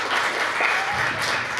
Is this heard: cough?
no